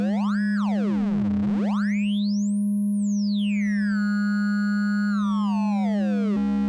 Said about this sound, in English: let's go back to our sine waves, and we'll pull in the mix of our saw, which is being pulled from the pulse oscillator